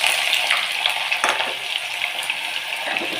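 Sliced ginger fries in hot oil with a steady, close, crackling sizzle that runs without a break and has a few brighter pops. No one speaks.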